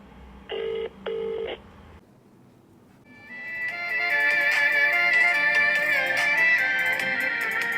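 Two short electronic tones like keypad beeps, a brief quiet pause, then a rising, sustained ringing tone as the call connects.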